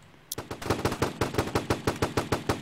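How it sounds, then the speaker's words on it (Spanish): Repeated shots from a shotgun in the Roblox zombie shooter Frontlines, an initial blast followed by a steady rapid train of about fifteen sharp punchy bangs, loud and close, with no talk. "Escopeta."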